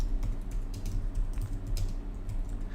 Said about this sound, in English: I'll show you the keyboard that I use, though.